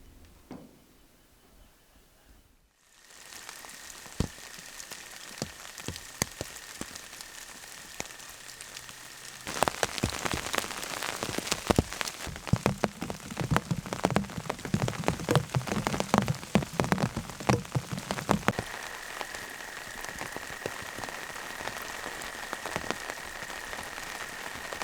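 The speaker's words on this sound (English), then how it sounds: "The week came to a close with a gentle system giving us a good 2 days of rain." Steady rain falls on an Australian homestead garden in spring, a dense hiss of drops on surfaces that starts quietly after a brief silence and grows heavier and closer midway, continuing alone without voices.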